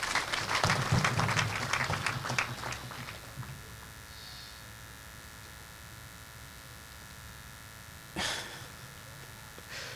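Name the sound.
audience applause for the organizing committee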